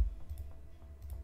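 Soft computer mouse clicks, several light taps spaced irregularly, close and faint over a low hum while working in Blender.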